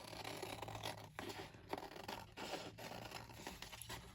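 Close, dry scratching and rasping as blades slice through paper, in short uneven strokes with brief pauses between them.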